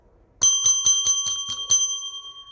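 A bright bell rings seven times in quick succession, clear and close, each ding leaving a ringing tone that fades out after the last strike.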